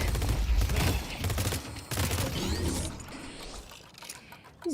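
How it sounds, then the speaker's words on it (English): Pulse grenade blast in the game Deadlock, a burst of rapid crackling detonations with mechanical clatter over about three seconds, loud at first and then fading into quieter game ambience. "Pulse grenade."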